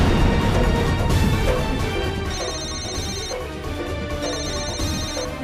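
A telephone rings in two short bursts of bright, repeating electronic tones, laid over loud dramatic background music in a tense scene.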